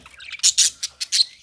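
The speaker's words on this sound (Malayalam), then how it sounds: "ലവ് ബേഡ്സ് വെള്ളത്തിൽ കുളിക്കുന്ന എങ്ങനെയാണെന്ന് നോക്കാം." African lovebirds chirp while bathing at a water dish, giving a quick run of sharp, bright, close-up tweets and squawks in irregular bursts.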